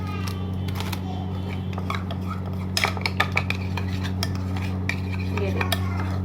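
Tikka masala marinade for biryani being stirred and mixed in a bowl with a utensil, giving soft scraping, clinking taps against the dish over a steady low hum, with a busier burst of clatter midway.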